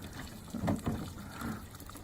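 Water trickles and gurgles out of a container at an off-grid campsite, a soft continuous dribble with a couple of louder splashy gulps in the middle.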